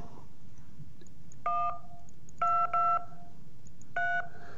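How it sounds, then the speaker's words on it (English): Touch-tone telephone keypad dialing: several short, clean electronic dual-tone beeps, a few paired in quick succession, sounding close and clear over a low steady background hum. "So here's how a touch tone phone works."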